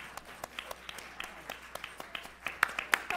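Scattered applause for College of Education faculty at a Proctor Day program: sparse, distinct claps from a modest crowd, fairly faint at first, then a few sharper, louder claps close by toward the end.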